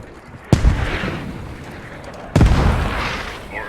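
Two heavy rocket launcher explosions in a shooter video game land about two seconds apart, each a sharp loud boom followed by a long rumbling decay, with nobody speaking.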